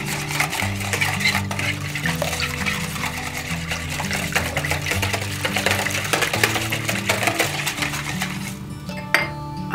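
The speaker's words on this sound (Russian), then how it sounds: "Берем венчик и все это хорошенько размешиваем." A whisk stirs eggs into milk rapidly in a bowl with light, continuous clinking against the sides, while music plays steadily underneath.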